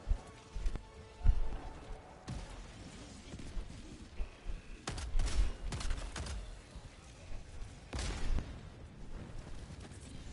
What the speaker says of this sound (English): That's just a mortar.